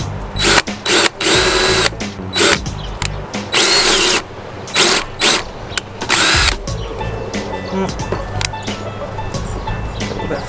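A power drill bores a hole in bottle tops for recycled garden art, running in short loud bursts with brief pauses between them, then giving way to quieter handling and mechanical noise.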